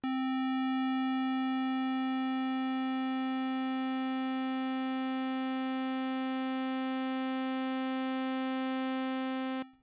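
A steady synthesized tone from Roland Zenology Pro with rich, bright harmonics, one partial fading in as another fades out, holds at an even level for about ten seconds, then cuts off abruptly at the end.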